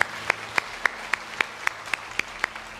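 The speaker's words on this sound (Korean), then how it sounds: "우리 하나님께 영광의 박수 올려드리겠습니다." Evenly spaced, sharp claps ring out in a steady rhythm, about three or four per second, fairly soft against a quiet background during a Sunday worship service in a church.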